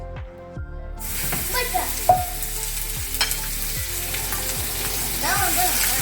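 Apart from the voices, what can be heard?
ground beef frying in a pan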